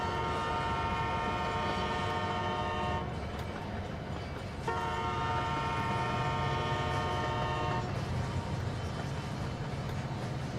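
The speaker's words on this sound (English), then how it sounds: "Signing off the lights and moving the locomotive." A locomotive in the Rolling Lines train simulator game drones steadily under a sustained two-part horn blast that sounds, pauses briefly and sounds again, loud and close over the continuous engine rumble.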